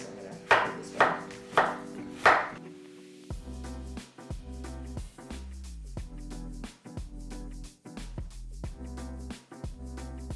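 A knife chops hard vegetables on a board with four crisp, evenly spaced strikes, then gives way to tuneful background music.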